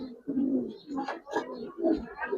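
Giribaz pigeons at a pigeon seller's coo in low, rolling phrases close by, several throaty bursts in a row in an otherwise quiet setting.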